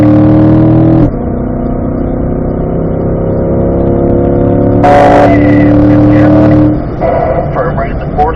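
A Corvette accelerating onto a race-track straightaway in fourth gear at a performance driving school, heard from inside the cabin: a loud, sustained engine drone with steady harmonic tones that shift in pitch a couple of times as the car pulls.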